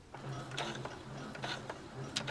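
A Brother computerized sewing machine running in reverse for a few back stitches, a steady close mechanical whir with rhythmic needle clicks throughout.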